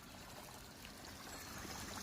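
Water running steadily onto a rose plant in a home garden, a continuous soft stream and trickle that is faint and even throughout, with no voices.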